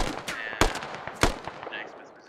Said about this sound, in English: They're gonna start shooting the Americans here.